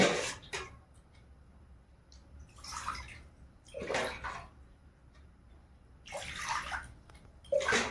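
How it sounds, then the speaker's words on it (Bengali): Water poured from a vessel into a pot set on a gas stove, several short splashing pours in bursts separated by pauses, close by and with no talking. "কড়াটা বসিয়ে দেব জল দিয়ে দেব"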